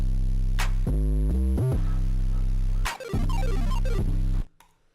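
A loud electronic beat with buzzy sustained bass tones, sliding pitch swoops and choppy stuttering cuts like a record being scratched, ending abruptly.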